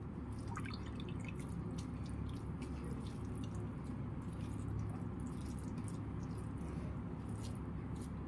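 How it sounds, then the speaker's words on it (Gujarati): Soaked poha draining in a strainer, water trickling and dripping steadily and close up as a soft, continuous wash of liquid for the whole stretch, with no voices. "આમ કરીને આપણે બધું પાણી નીતારી લઈશું"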